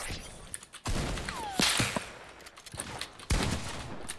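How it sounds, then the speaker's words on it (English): Sharp sniper rifle shots in the video game Fortnite crack out in a few separate bursts, fired into the air over busy in-game noise, each shot a loud sudden report. "he's sniping in the air at someone"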